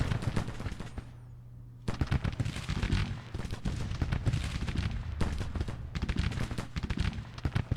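Civil War troops firing muskets in Grand Tactician Civil War, a ragged, continuous rattle of volleys after a brief lull, dense and fairly near, with bursts rising and falling.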